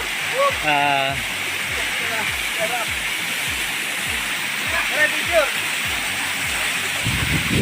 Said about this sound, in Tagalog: So ito po yung falls na tinarget namin dito sa